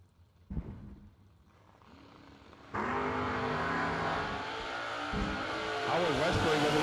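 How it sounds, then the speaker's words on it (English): A drag race car launches into a wheelie at a Christmas Bash drag event, its engine roaring up from a quiet idle into a loud, sustained full-throttle run with a sharp rising pitch, heard at a distance. "Howard Westbury with another great wheelie"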